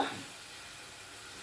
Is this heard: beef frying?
yes